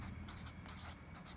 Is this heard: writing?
yes